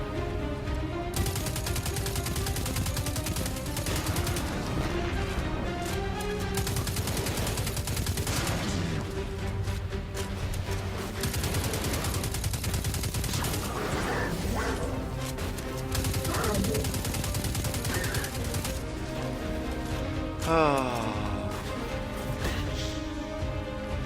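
Dense, continuous gunfire and explosive bursts from a Destiny 2 beta firefight fill the scene, loud and sustained with rapid repeated shots throughout, and no talk over it.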